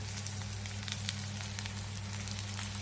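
Eggplant and ridge gourd fry in a hot pan with a dense, continuous sizzle, bright crackles popping through a low steady hum, close and loud, with no voices.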